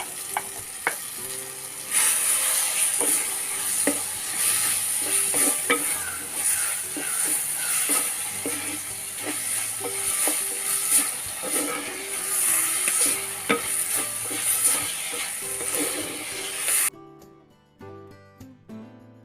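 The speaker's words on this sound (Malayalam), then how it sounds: "അപ്പോൾ നമുക്കിനി ചെമ്മീൻ ചേർത്ത് കൊടുക്കാം" Prawns fry in a clay pot for a Kerala-style prawn roast, a loud sustained sizzle over many quick scraping and tapping stirs that carry on for most of the stretch before the hiss drops away near the end.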